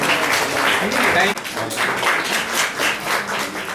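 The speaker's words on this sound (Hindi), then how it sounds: "कृपया तालियां जो है बजती रहनी चाहिए।" Dense, steady applause from an audience at an International Day of the Girl Child award ceremony fills the space, with a voice talking over it.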